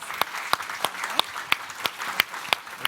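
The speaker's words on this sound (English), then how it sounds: "Let's give our panelists a round of applause." Panelists at a public radio summit receive a round of applause: sharp, regularly spaced claps, fairly close, from a small audience under light room murmur.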